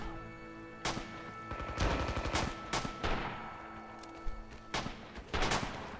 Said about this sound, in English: Reload that machine gun!